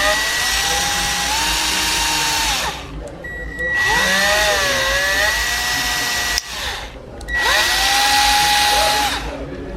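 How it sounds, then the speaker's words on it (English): A loud power drill with a blunt bit whines in three long bursts separated by brief pauses, its pitch wavering and straining as it grinds against heavy friction. "It's a lot of friction. It's not the sharpest drill."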